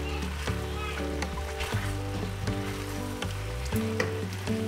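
Homemade Hamburger Helper sizzles steadily in a skillet, a dense continuous frying hiss with soft scraping stirs and occasional utensil clinks against the pan, close and constant throughout with no talk.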